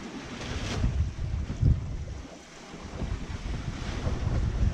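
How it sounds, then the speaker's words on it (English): Wind buffeting the microphone on a sailboat under sail on Lake Michigan in steady breezes of around 8 to 10 knots, a continuous gusty low roar with water rushing underneath and no talking. "So the wind finally filled in reliably"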